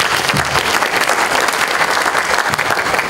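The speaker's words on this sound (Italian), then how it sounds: "intanto un bel applauso per Tiziano." An audience at the Città di Mestre literary prize event applauds, a loud, continuous roar of many hands clapping close by without a break.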